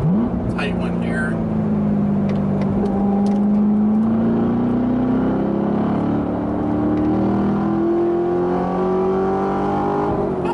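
A 2016 Chevrolet Corvette C7 Z51 drives on a road, its engine droning loud and close with rising and falling revs as it accelerates, while wind and road noise fill the cabin and a voice talks over it.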